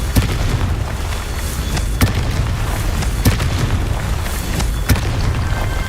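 A spell's blast booms repeatedly in the video game Hogwarts Legacy, with sharp bursting hits roughly every second over a constant loud rumble of game effects.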